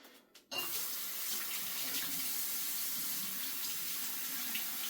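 Tap water running into a bathroom sink while rinsing the face during a skincare routine; a steady, close, continuous splashing stream that starts abruptly after a brief moment and runs on alone.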